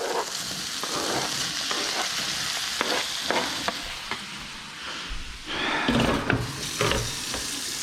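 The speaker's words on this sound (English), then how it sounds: "Yeah, listen to that sizzle." Chicken searing in a nonstick pan sizzles steadily and close by, with repeated scraping and stirring strokes breaking through the frying hiss.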